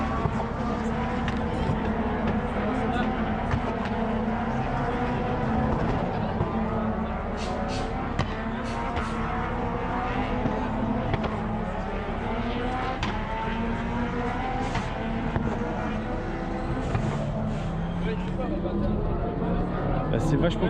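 Formula Ford race cars wait on the pre-grid at the Paul Ricard circuit, and their engines hold a steady, continuous drone with slight fluctuations throughout.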